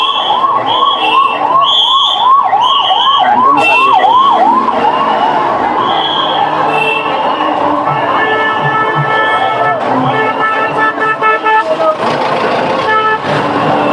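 A fire brigade vehicle's wailing siren rises and falls in steady repeated sweeps amid the crowd at Shivaji Park on Mahaparinirvan Din, loud and close, later giving way to horn toots and traffic with voices in the background.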